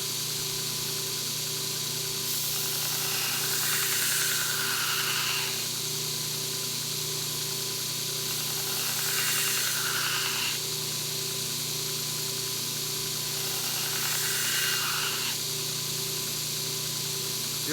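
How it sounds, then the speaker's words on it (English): A belt grinder works a bushcraft knife blade: a steady motor drone runs throughout, and three longer passes of louder, hissing abrasion rise above it and fade away. "we'll move the belt over to the opposite side now"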